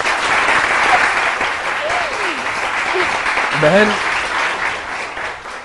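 Loud studio audience applause on a Pakistani morning talk show during a cooking segment, continuous clapping with voices calling out and speaking over it.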